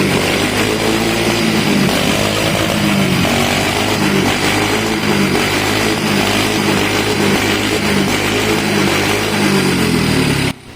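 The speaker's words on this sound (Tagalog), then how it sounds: "At ipaparinig ko na sa inyo ang kanyang makina." A Suzuki Choinori scooter engine runs steadily after its carburetor has been cleaned. The loud, buzzing two-stroke drone stays close and constant for about ten seconds before cutting off abruptly, with no talking.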